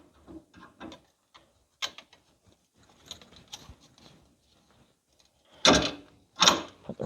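A wrench ratchets and clanks on the transmission of a John Deere 855 tractor, with scattered light metallic clicks followed by two louder, closer bursts of ratcheting.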